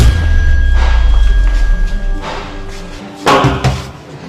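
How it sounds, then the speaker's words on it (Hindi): A door is banged hard to force it open: a low rumbling pound, then a few heavy thuds and one loud slam, close and forceful with no speech. "आके गेट तोड़ना जरा"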